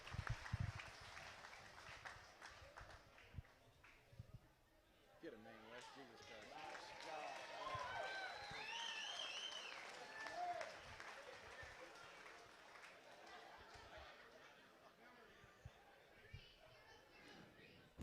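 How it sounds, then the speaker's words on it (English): A crowd at a western heritage horse auction breaks into faint, distant applause after a sale. The clapping swells and then lingers under murmured chatter and an amplified voice. "Give him a big, big round of applause"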